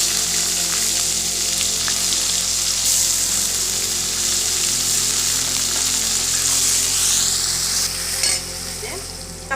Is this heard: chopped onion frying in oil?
yes